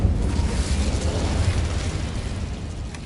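An Incendio fire spell is cast in a video game, a rushing burst of flame that swells at once and then roars on steadily, slowly easing off over a few seconds.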